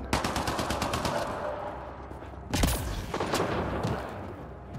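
Enemy gunfire in Mass Effect Andromeda, rapid automatic bursts rattling close by, then a heavy blast and further scattered shots in a chaotic firefight.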